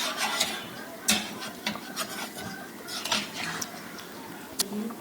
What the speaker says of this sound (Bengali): মাংসে বলক চলে এসেছে, এখন অনবরত একটু নাড়তে হবে